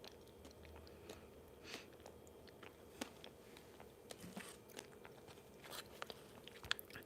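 Crunchy snack being chewed up close during a relaxed tasting, with repeated soft bites and crackly crunches over a low steady background; no talking.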